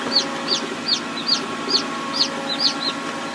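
Chicks peep at a hatching in regular, evenly spaced chirps, about eight in three seconds. They sound close and clear over a steady background hum.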